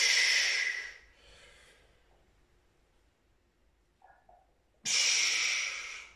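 Forceful exhalations during a biceps workout, two loud, close breathy rushes of air separated by quiet pauses with faint rustling and a small mouth noise between.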